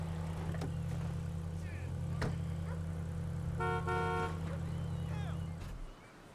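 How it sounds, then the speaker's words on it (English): In the video game GTA 5, a car's lock gives a short horn chirp in a garage. The chirp is a brief, bright toot that stands out over a steady engine hum, with faint clicks and voices in the background. "My car locking up."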